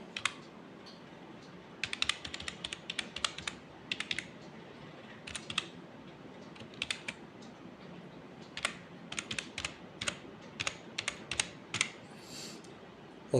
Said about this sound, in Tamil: இப்போ நான் இதில் டைப் பண்ணிக்கிறேன்